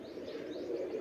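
A pigeon gives a brief, low, warbling coo at moderate loudness, heard alone with no voices.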